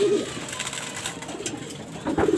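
Pigeons cooing in a loft, low throaty coos at the start and end over a busy background of fluttering and shuffling, close and fairly loud with no talking.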